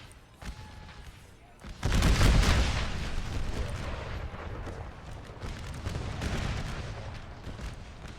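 Artillery fire in an American Civil War Total War battle game, a loud booming blast followed by sustained rumbling cannon and gunfire, with scattered crackling shots continuing throughout and faint talk underneath.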